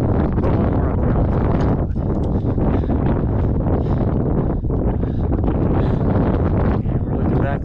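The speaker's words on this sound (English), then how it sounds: "so it's a bit breezy" Wind roars across a mountain trail in the Wind River Range, a loud, steady low rumble buffeting the microphone with brief dips and no other sound.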